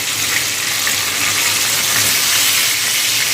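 Prawns fry in oil in a pan and are flipped, giving a steady loud hissing sizzle close by that holds throughout with no break.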